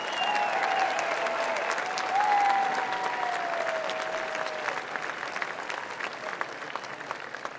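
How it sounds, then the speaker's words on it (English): A political rally crowd in Butler, Pennsylvania breaks into sustained applause, a thick, even wash of clapping from a large outdoor gathering with a few sharper individual claps standing out as it slowly tapers. "Give him a big round of applause"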